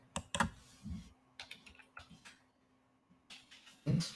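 Typing on a computer keyboard to enter a terminal install command, with quiet, close, irregular clicks and short pauses between them.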